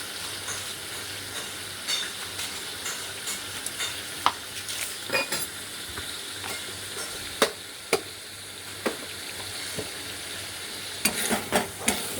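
Spice paste with garam masala and sugar frying in oil in a pan for a prawn malai curry, giving a steady close sizzle with scattered sharp clicks and stirring scrapes throughout.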